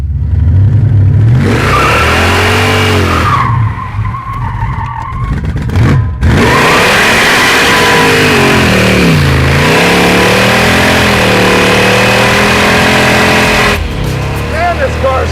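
A Jaguar with a swapped engine does donuts in a parking lot, its engine roaring loud and close, revs rising and falling in long sweeps as tires squeal and skid throughout.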